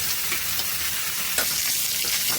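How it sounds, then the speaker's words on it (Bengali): Chilies frying in hot oil for a bharta, with a steady close sizzle and occasional stirring scrapes throughout, and no voices. "এই মাছ বাজা হয়ে গেছে ওই কয়েকটা মরিচ বেজে নিব"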